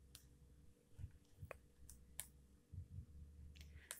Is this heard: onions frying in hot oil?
no